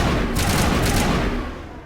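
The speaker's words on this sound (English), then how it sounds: "these assault rifles aren't exactly very accurate." Assault rifle fire in the Mass Effect video game, a rapid burst of shots that blur into a continuous loud roar and then fade away.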